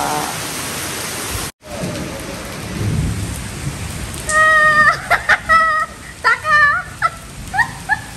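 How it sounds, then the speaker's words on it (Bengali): Thunder rumbles low and heavy during a downpour, with rain hissing steadily on surfaces; a dog barks repeatedly in the later half, several sharp yelps close by. "কি হারে মেঘ ডাকছে।"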